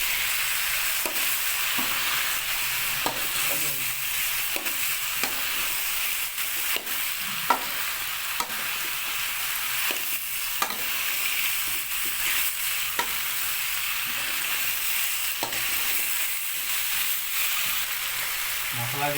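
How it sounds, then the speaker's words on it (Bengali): Potatoes fry in a pan for a capsicum, radish, potato and eggplant dish, giving a constant moderate sizzle with irregular spoon clicks and scrapes as they are stirred over roughly twenty seconds. "আলুগুলোকে ভালো করে নেড়ে নেওয়া হবে।"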